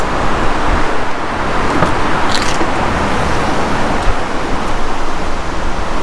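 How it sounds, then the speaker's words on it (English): Loud, dense roadside traffic noise: a constant broadband roar of passing vehicles, close by and unbroken, with no voices over it. "It's so loud right here with this road"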